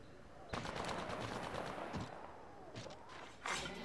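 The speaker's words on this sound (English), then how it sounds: "Opening fire on the enemy." Automatic weapon fire in the shooter game Apex Legends, sustained bursts rattling loudly from about half a second in, with a short pause near the two-second mark and another burst near the end, mixed with game noise.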